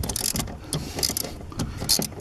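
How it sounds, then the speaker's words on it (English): A 10 millimeter socket wrench ratcheting as bolts are removed from a 2004 Jaguar X-Type during an accelerator pedal sensor repair, giving quick, close clicking bursts in an uneven rhythm. "so to remove those, you'll need a 10 millimeter socket."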